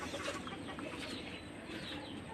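A flock of chickens clucking in Tacloban, faint and somewhat distant, with scattered clucks and calls over a dense, noisy background.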